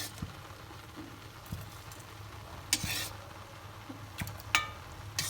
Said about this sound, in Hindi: ये उबल रही है कंडाली।